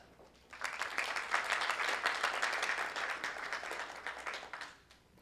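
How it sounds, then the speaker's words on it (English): An audience at a tech talk gives a speaker a round of applause, a steady wash of many hands clapping that rises quickly, holds for about four seconds, then tapers off. "Let's give a big round of applause to Jim O'Brien"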